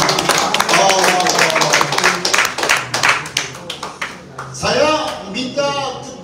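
A congregation at a Sunday church service claps hands in a burst of sharp overlapping claps, which then fade as a voice speaks over the room.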